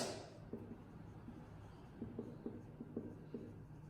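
Writing on a board, a quiet run of short scratchy strokes and taps coming in small irregular clusters, faint and close in a still room.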